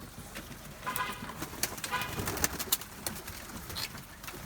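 Pigeons coo softly at a tumbler pigeon auction amid general background noise, with low repeated coos and a few sharper sounds.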